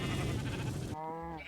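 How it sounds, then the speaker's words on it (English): A single sheep bleat from Minecraft, a clear wavering baa that follows a short burst of rough, noisy game sound, close and fairly loud. "And hello, Mr. Sheep. Time to die."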